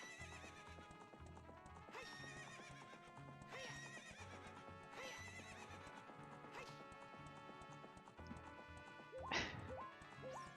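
Epona the horse in Zelda: Ocarina of Time gives repeated shrill neighs and whinnies over clip-clopping hooves and game music, with a sharp crash near the end.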